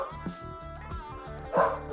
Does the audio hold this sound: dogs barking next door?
yes